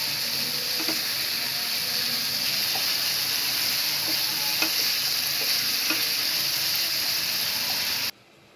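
Chicken breast sizzles and fries steadily in a pan for about eight seconds, with occasional light stirring clicks over a constant hiss, before the sound cuts off abruptly near the end.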